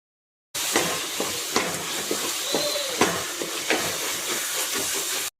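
Vegetables for veg biryani sautéing in a pan, a steady close sizzle and steamy hiss with faint clinks of stirring, continuing for about five seconds after a brief silence, with no talking.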